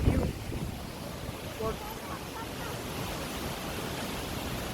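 Waterfall rushing nearby at a hillside spot in Manali, a broad, steady roar of falling water with wind buffeting the microphone, loud and continuous throughout.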